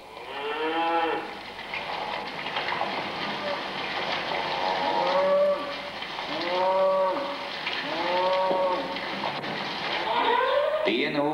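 Angeln cows mooing repeatedly, several long drawn-out calls in succession, fairly close and loud, with a few overlapping lows.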